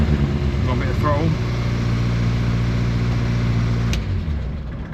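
A classic Morris car engine idles steadily inside a garage, a low continuous rumble throughout that eases slightly toward the end, with someone speaking briefly over it.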